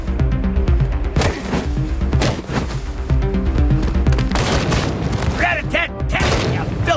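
Gunfire and booming explosions in the video game Wasteland 3 come as rapid, loud overlapping blasts and thuds with mechanical clatter, mixed with in-game voices and talk.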